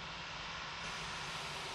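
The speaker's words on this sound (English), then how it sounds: "What we'll do now is we'll just quickly turn off our engines." Aircraft engines in the FSX flight simulator game, heard as a faint, steady drone with broad hiss and no clear rise or fall over the short stretch.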